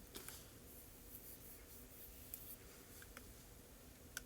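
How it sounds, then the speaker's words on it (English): A large flat file works the cut edges of a silver cuff bracelet, giving faint, soft scraping strokes with a few light ticks, close and quiet. "Using a large flat file, just smoothing those edges,"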